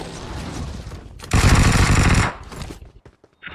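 Burst of automatic gunfire from a BGMI battle royale match, a dense loud volley lasting about a second, framed by quieter game ambience and a few softer shots afterward.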